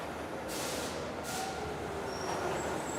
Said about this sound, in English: the noise and rush of the incoming train